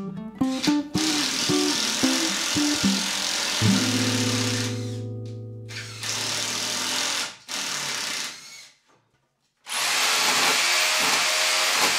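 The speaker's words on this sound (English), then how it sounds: "Remove the screw and just re-drill it." A power drill whirs into a stud wall in several bursts of varying pitch, close by, broken by short pauses and a brief silence before a final run.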